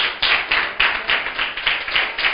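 Several people clap together in an even rhythm, about five claps a second, nearby and moderately loud, at a church sermon.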